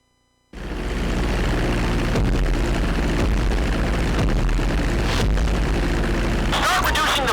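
Propeller airplane engine droning steadily on a landing approach in GTA 5, a loud continuous roar that starts abruptly and holds at a constant level throughout, with a brief whooshing burst near the end; no talking is heard.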